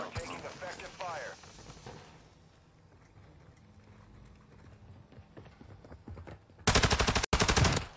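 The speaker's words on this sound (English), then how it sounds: "You are taking effective fire." Rapid bursts of automatic gunfire rattle through a military shooter video game, loud and dense near the end after a stretch of in-game voice callouts and background battle noise.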